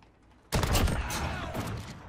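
A shotgun goes off in Call of Duty Modern Warfare on the Gunfight Cargo map. A sudden loud blast after a quiet half-second is followed by ringing, echoing gunfire that tails off.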